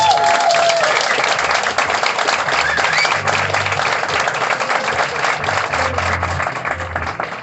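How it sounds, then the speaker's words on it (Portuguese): Wedding guests applaud the newly married couple at the ceremony, a loud, continuous wash of many hands clapping that holds steady throughout, with faint crowd murmur underneath. "uma salva de palmas ao casal!"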